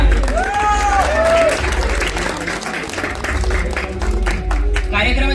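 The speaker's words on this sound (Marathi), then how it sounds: "त्यांच्यासाठी परत एकदा जोरदार टाळ्या." A large audience at a university Shivaji Jayanti celebration claps loudly and steadily for a group's performance. The applause is dense and continuous, with a voice and some tonal sounds briefly audible over it near the start.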